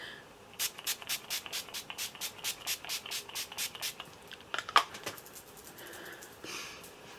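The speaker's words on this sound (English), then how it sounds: "We'll spray a bit on the face because I've not got any setting spray on." A rapid string of short, hissing pumps of makeup setting spray onto a face, over a dozen in steady rhythm, close and fairly quiet, with no voices.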